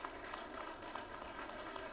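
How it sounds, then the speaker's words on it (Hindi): Applause from the audience at Sahitya Aajtak 2023, a Hindi literary festival honouring Javed Akhtar: a dense, steady patter of many hands, fairly quiet and distant, continuing evenly throughout. "अपने लिए भी तालियां बजाइए और उनके लिए भी जिनके सम्मान में हम यहां पर एकत्रित हुए हैं"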